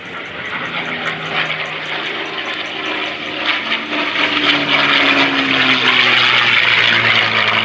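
A P-51 Mustang makes a high-speed pass at the Abbotsford International Airshow, its engine roar building and shifting in pitch as it sweeps by, with an announcer talking over it.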